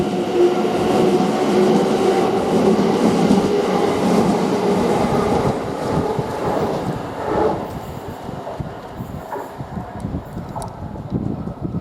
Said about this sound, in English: Now this train now is leaving now with the London Northwestern Railway, the 13:35 Birmingham New Street to London Euston